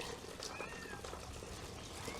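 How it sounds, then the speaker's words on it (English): Cat meowing and complaining while birds are being processed by hand, a faint drawn-out meow or two over a low, noisy background. "give them to your cat that's complaining"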